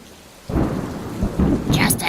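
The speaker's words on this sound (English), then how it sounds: "Thunder's just a noisy racket" A thunder sound effect under a children's story reading, with a sudden deep rumble that builds and rolls on, mixed with rainfall and a brief crackle near the end.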